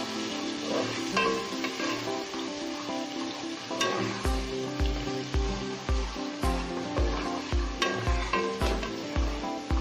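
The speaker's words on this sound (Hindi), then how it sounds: "ऑयल डाला मैंने, उसमें मैंने प्याज चॉप किया हुआ डाला।" Chopped onion frying in hot oil in a home kitchen, a steady loud sizzle with crackling bursts and a regular low thumping of stirring underneath, no talking.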